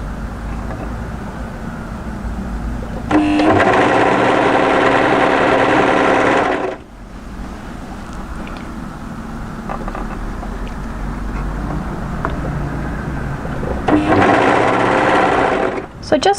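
An overlocker sewing machine stitches a dress seam in two fast, loud whirring runs, with a quieter stretch between them where a voice talks.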